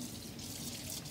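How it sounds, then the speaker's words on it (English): Water runs steadily down a kitchen sink drain, rinsing away soap; a faint, even splashing flow with light dripping and no talking. "I'm going to rinse that soap down."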